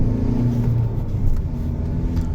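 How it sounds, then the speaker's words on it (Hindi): Mahindra XUV700 SUV engine under full acceleration, a loud, steady low rumble and whir heard from inside the cabin, with no break and no talking. "अब पूरा एक्सीलेटर देखें एंड सी द पावर."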